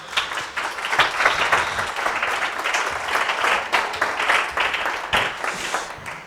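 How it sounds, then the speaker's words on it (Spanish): Audience applause at a science week talk in Gasteiz, a dense, steady wash of clapping from a crowd that holds for several seconds and rises briefly near the end, with no speech over it. "Un fuerte aplauso."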